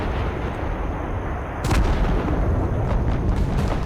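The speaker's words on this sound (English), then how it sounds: "my howitzers were literally just rain fire on them" Heavy booming howitzer fire in the video game Total Conflict: Resistance rumbles continuously, with a louder blast partway through and distant thuds rolling on after it.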